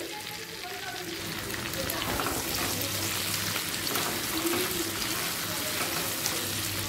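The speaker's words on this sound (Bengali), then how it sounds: "পেঁয়াজ ক্যাপসিকাম 2 মিনিট মিডিয়াম ফ্লেমে ভাজা হয়ে গেছে" Onion petals and square-cut capsicum frying in a pan over a medium flame for chilli paneer, giving a steady, even sizzle throughout at moderate loudness.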